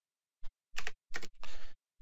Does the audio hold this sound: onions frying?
no